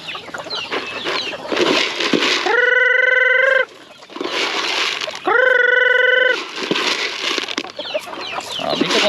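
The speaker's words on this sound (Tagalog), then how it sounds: "Ito mga manok, ito ibang manok" Free-range chickens in a farmyard give two drawn-out, loud squawking calls, each about a second long, amid a constant background of clucking and rustling.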